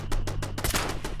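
Turret fire in Fallout 76, a fast, steady burst of close automatic shots over a low engine-like hum.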